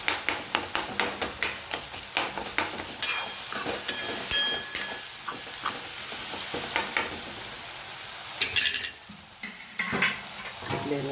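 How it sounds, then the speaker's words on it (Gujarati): Tomatoes for a samosa filling are sautéed in a pan, a continuous sizzle broken by a quick run of regular spatula taps against the pan, then scraping and stirring, with a brief louder clatter near the end. "સોટે કરી લઈશું એટલે જલ્દી બધું મિક્સ થઈ જાય. થોડા ટામેટાં મિક્સ થઈ જાય"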